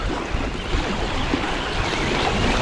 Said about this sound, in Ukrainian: Із-за вітру, із-за хвиль.